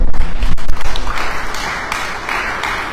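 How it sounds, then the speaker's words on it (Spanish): Conference audience gives a short burst of applause after an introduction, clapping loud at first and thinning out over a few seconds. "Vamos a darle un fuerte aplauso."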